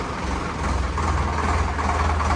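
A Preet tractor engine with a clutch fault runs steadily under load, a loud, constant low diesel rumble heard close and alone.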